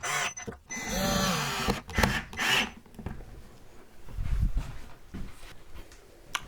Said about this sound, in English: drill my holes and screw them in place